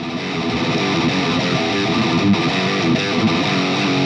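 A heavily distorted electric guitar played through a Marshall overdrive pedal plays thick, sustained chords, loud and dense without a break.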